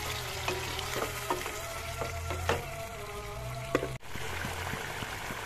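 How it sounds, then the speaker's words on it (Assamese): Fish curry with turmeric and salt stirred and turned over in a frying pan, a steady sizzle with intermittent scraping strokes of a spatula, close by and fairly loud. "ইয়াতে ঢালি দিম এনেদৰে তলপৰ কৰি লৰাই দিম"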